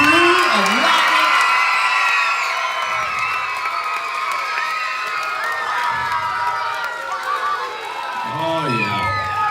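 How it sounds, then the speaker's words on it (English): A crowd cheers, whoops and shouts for a crew of senior rockets at a school salute event, a loud sustained roar with excited voices rising above it. "Come on, give it a cheer for this crew of rockets."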